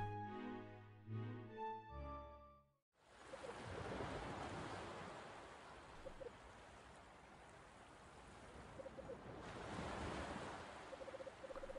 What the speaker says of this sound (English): From the darkness, an orange glow, and from the silence, the crashing of waves.